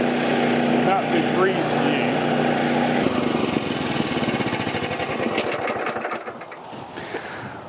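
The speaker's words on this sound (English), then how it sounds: "Flail mowers are very unwieldy, but this one here being so compact" An AS Motor AS 600 MultiPro carrier with flail mower attachment runs steadily nearby, a continuous droning engine and whirring cutter that shifts to a rougher, choppier texture partway through, with a voice talking over it.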